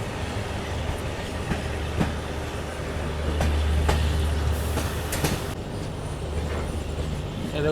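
A nonstop special train from Jaipur to Mumbai runs on rails, with a constant rumbling roll and rhythmic clickety-clack of wheels over joints, steady and close, swelling slightly midway.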